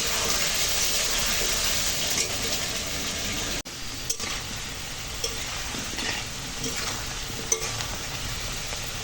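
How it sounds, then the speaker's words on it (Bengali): Potatoes frying in hot oil, a soft continuous sizzle with a brief break midway and a few faint clinks, fairly quiet, no speech. "আলু এবার তুলে ভাজা হয়ে গেছে"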